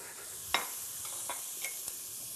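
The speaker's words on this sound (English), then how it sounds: "I'm just searing off the chorizo sausage" Chorizo sausage sears in a pan with a soft, steady sizzle, broken by a few light clicks of stirring.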